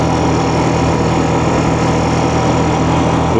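A Honda Recon 250 ATV fitted with SunF A027 tires rides along a main road, its engine droning loud and steady at close range with constant low rumble throughout, no talk.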